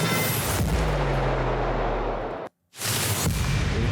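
A sub impact sound effect previewed in a video editor: a deep, loud booming hit with a long rumbling decay, cut off abruptly into silence, then a second heavy hit starting.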